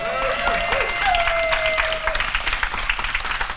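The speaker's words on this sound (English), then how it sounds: "Can we give him a round of applause?" A crowd claps in a round of applause for a day's event host at a co-author spotlight gathering, broad steady clapping with a held tone and some voices mixed in near the start.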